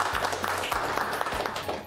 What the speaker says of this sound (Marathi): जोरदार टाळ्या तुमच्या सगळ्यांसाठी